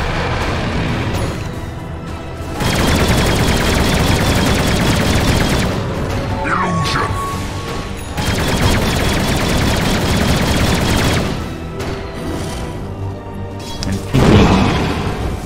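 Flak Cannon gunfire in a Dota 2 match, heard as dense, rapid bursts of booming shots that swell and fade in several loud waves with brief gaps between them.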